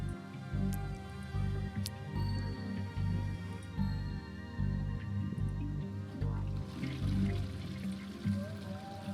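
Water swirls in a toilet in the video game The Darkside Detective, a soft continuous pouring and trickling sound over a looping low musical backdrop, fairly quiet throughout.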